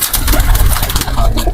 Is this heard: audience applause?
no